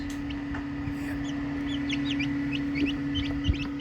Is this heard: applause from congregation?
no